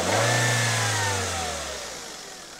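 A car engine converted to run on E85 ethanol with an aftermarket kit revs hard and then settles back, its deep droning note loud and close, the pitch climbing and falling away before it eases off.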